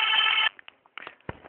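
A telephone rings in a call to civil defense in Saudi Arabia: a loud, steady ringing tone for about half a second, then quieter clicks and short line noises follow.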